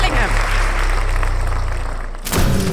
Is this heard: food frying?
no